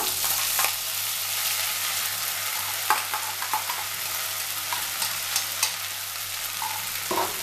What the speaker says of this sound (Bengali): প্রথমে আমি একটু ফোড়ন দিয়ে দিয়েছি, তার মধ্যে দিয়ে দেব কড়াইশুঁটিটা।